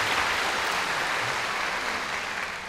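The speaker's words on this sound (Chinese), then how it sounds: "给他掌声，好不好？" An audience at a concert claps in steady, dense applause that fills the hall, loud and sustained before fading slightly at the end.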